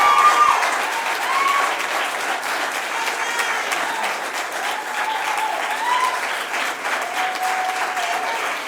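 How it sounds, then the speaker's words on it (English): Sustained applause from a crowd at a law enforcement press conference, steady clapping that carries on loud throughout with no pause. "Another round of applause for the men and women of law enforcement."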